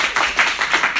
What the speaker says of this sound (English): Our clapping is so bad.